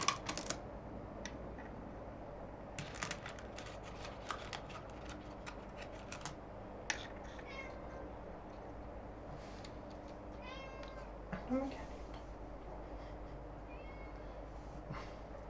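A house cat meows a few times at a distance while a computer keyboard clicks in irregular bursts in a quiet room; no one speaks.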